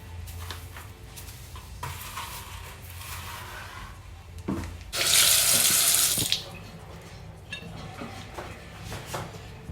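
Water gushes loudly from a bathroom tap for about a second and a half midway, with the water heater off, surrounded by quieter handling clatter and thuds.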